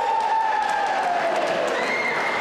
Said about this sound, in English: Cheers all around from the crowd.